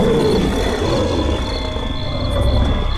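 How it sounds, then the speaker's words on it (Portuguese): A werewolf-like monster roars loudly and continuously, a deep, rough audiobook sound effect that fills the whole stretch with no talking. "vi um monstro rugindo com força"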